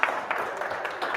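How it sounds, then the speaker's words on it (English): Brief, moderately loud clapping from an audience at a one-day festival, a short patch of applause with no voices over it. "Round of applause, please."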